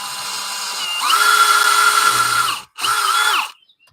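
In a blacksmith shop, a power drill whirs loudly in two bursts, rising in pitch, cutting off briefly, then spinning up again before winding down to silence.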